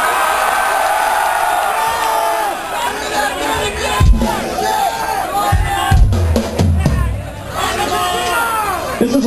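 Fans at a rock concert roar, whoop and shout in a loud, sustained burst of crowd noise, with individual yells rising above the din.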